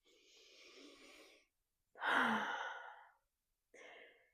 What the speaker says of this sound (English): So please close your eyes again. I'm sure that they opened. And take a deep breath with me.